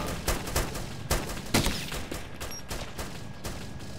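Sustained gunfire in a realistic PC war game, with rapid overlapping shots and bursts cracking in an irregular fusillade, loud and dense throughout.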